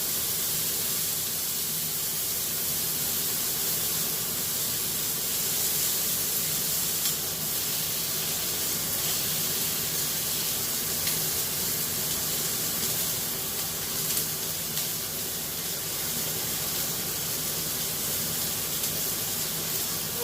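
A New York strip steak sears in a cast iron pan, giving a steady, loud sizzling hiss that runs unbroken throughout.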